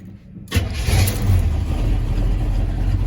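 A 1978 GMC C25 squarebody truck engine cranks and catches after a half-second of quiet, then settles into a steady, loud, rumbling idle close by, with no one talking.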